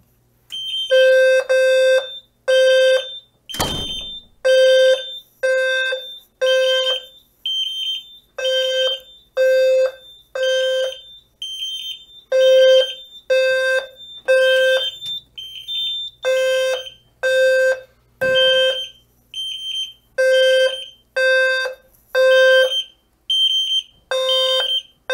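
A Simplex 4010 fire alarm system sounds during a test, with a loud electronic horn blaring in a steady on-off temporal pattern of repeated bursts and short gaps, alone and close.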